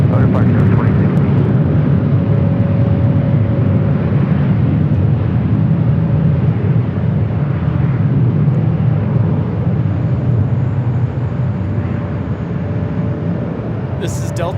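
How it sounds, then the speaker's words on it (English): A Delta Connection Embraer E175 jet taking off at LAX, a loud continuous engine roar holding steady throughout, with tower radio chatter heard over it. "This is Delta Connection 3712 taking off to Sacramento on the E175."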